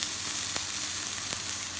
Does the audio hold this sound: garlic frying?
yes